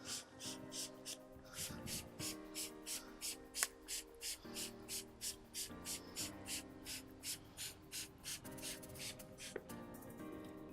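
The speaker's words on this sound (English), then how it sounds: "I'm gonna give them a nice generous spray." Rapid, rhythmic hisses of a spray bottle pump repeatedly in quick succession onto beef ribs, close by, with a soft background hum and no talking.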